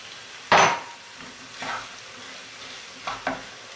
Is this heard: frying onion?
yes